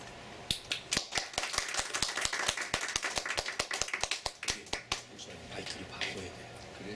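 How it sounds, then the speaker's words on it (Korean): A church congregation applauds to welcome a guest speaker to the front, with dense claps rising and then thinning out over several seconds, and faint voices underneath. "오늘 저녁에 이제 우리 제이슨 형제 나올 때 같이 이제 박수로 환영해 주시면 고맙겠습니다"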